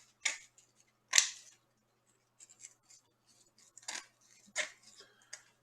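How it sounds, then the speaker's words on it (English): Scissors snip through wire mesh in sharp, crisp cuts, two early then a cluster of quieter clicks and snips, close and isolated in a quiet room. "Any scissors will do, really."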